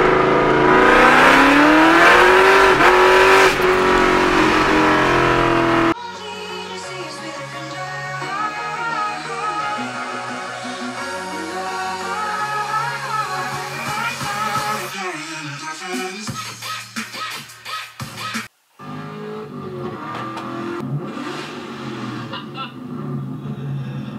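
A 2003 Ford Mustang SVT Cobra, the supercharged 530-horsepower Terminator Cobra, roars loudly at close range under hard acceleration, with rising engine pitch through several gear shifts.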